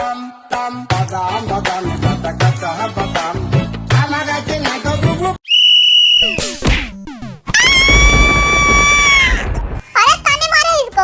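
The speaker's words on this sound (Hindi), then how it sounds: "जब मैं सीटी बजाऊं तब रुकना तुम सब" A whistle is blown in a rowdy comedy scene: a sharp, high, steady tone cuts in sharply near the middle, then a second longer, louder blast follows, between stretches of fast excited talking and shouting.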